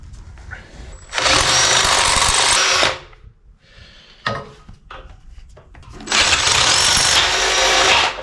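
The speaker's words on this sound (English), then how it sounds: "let's drill that hole out" Power drill boring out a hole in a part of a 1964 Ford F100 front axle assembly in a garage, two loud sustained whirring runs of a couple of seconds each separated by quieter handling clatter.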